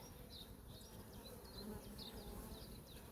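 Honeybees buzz over a hive frame during a colony inspection, a faint steady drone with brief higher whines of individual bees passing close.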